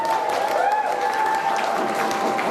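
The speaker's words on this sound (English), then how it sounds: "just one more quick round of applause to Ollie and Ellie." Steady applause from a wedding crowd during speeches, dense clapping sustained throughout with a faint tonal hum underneath.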